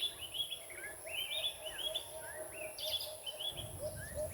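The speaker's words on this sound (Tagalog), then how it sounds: "Mga naririnig mo lang ay mga huni ng mga ibon." Birds chirp outdoors, a string of short, high tweets and rising call notes, fairly faint and fairly distant, over quiet background hum with no talking.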